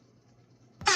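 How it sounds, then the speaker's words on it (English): A loud air horn blast bursts in near the end, sudden and brassy, after a second of low background murmur. "Where my air horn at?"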